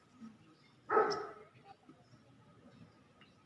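A single dog bark rings out near the one-second mark, fairly close and moderately loud, trailing off quickly over a faint, steady room background with no talking.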